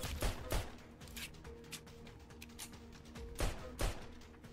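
Gunfire in the Roblox shooter Arsenal, with several quick bursts of shots at the start and again near the end and a quieter stretch of game noise between them, fairly faint overall with no voices.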